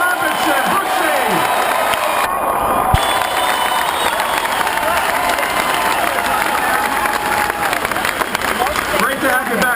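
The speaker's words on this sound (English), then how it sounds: "how about a big round of applause for number 5, Brooks Robinson." A baseball stadium crowd in Baltimore applauds and cheers for former player Brooks Robinson, a broad roar of clapping and voices running continuously, loud and distant-sounding, with an announcer's voice over the top.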